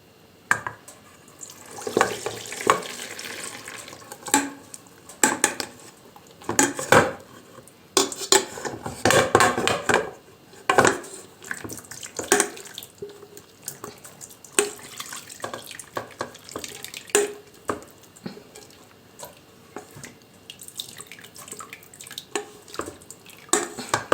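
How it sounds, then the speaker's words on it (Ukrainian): Homemade cheese curds and whey are poured through a colander into a bowl, with a steady run of clattering dishes, clinking metal and splashing liquid, loud and close, with no voices. "Тепер потрібно процідити це все на друшлак. Беремо миску і друшлак."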